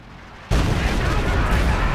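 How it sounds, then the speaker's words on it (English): B-4 howitzer fire in Company of Heroes 2 breaks in as one sudden, loud, broadband boom after half a second of quiet, its heavy roar sustained to the end. "B4 shifting again, hoping to catch some more troops."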